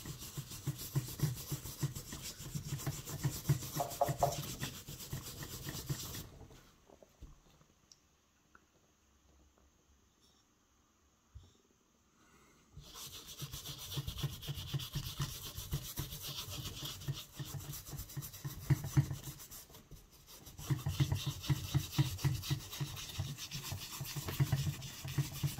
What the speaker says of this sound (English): you want to push the rapid fill vigorously into all those pores.